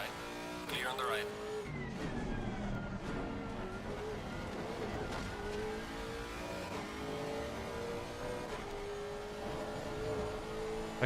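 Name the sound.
race car engine in the Assetto Corsa Competizione video game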